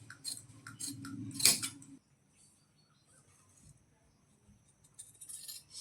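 Scissors snip through fabric while cutting a garment's sleeves, back and front: a few quick close snips and crisp rustles, then a quiet pause before more faint cutting.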